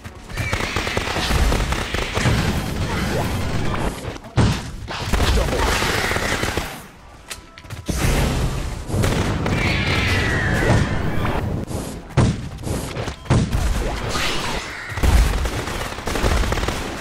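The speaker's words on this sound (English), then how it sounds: "Oh, it's a grenade launcher." Grenade launcher blasts and chaotic gunfire from the video game Orion: Prelude come in loud, dense bursts that are close and continuous, broken by one brief lull, with a voice heard now and then underneath.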